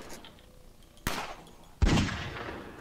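Pistol shots in the zombie video game Fort Zombie: two sharp, loud cracks about a second apart, the second heavier and ringing out briefly over quiet background.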